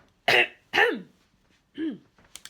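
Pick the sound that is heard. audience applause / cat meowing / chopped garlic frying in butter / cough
cough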